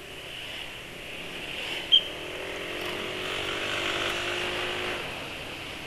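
Motorcycle fitted with a PRF turbo accelerating gently, a steady mid-distance engine drone that rises slowly with one short sharp click partway through, no talking.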